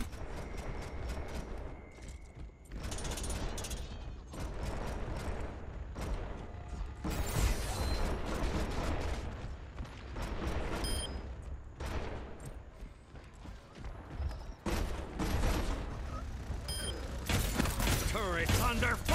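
Gunfire at turrets during an online Overwatch match on PS4, with rapid bursts of shots and clanking mechanical sounds in repeated loud waves, mixed with game noise and voices talking over them.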